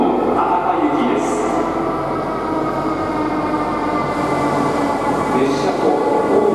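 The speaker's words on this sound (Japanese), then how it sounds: "11番乗り場に到着の列車は15時23分発かもめ86の博多行きです。" Kamome shinkansen train arriving at a station platform bound for Hakata, a steady loud rumble of rolling wheels and rail noise throughout, with station ambience and public announcements in the background.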